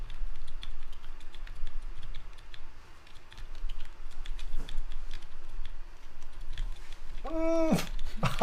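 Heavy 1300g spring switches clacking under fast typing, a dense steady stream of close keystrokes that runs throughout, with a brief louder burst of sound near the end.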